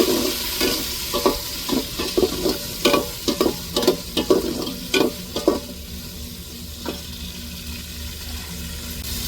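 Tomatoes and chillies fry in a hot pan while being stirred, with rhythmic scraping stirs over a steady sizzle that fades to a quieter simmer near the end.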